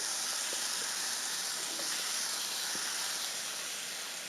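Asian pears and apples cook in a hot pan for a caramelized cake, giving off a steady, even sizzle and hiss that continues without a break.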